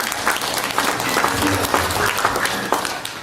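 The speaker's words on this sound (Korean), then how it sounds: "김영석 교수님처럼 무병장수하시길 기원하는 박수 한 번 더 부탁드리겠습니다." An audience at an award ceremony in a National Assembly Library auditorium gives a dense, continuous round of applause, loud and close throughout the short stretch, with a little talk underneath.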